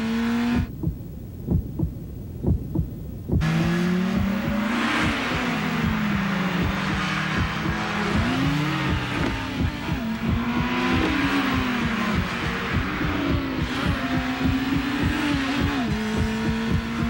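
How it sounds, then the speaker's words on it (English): An Acura RSX with a 200-horsepower engine revs repeatedly in a 2001 car commercial, rising and falling throttle bursts over a rhythmic thumping beat, loud and up front, with a brief quieter stretch near the start. "All-new 200 horsepower Acura RSX."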